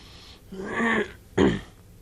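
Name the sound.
throat clearing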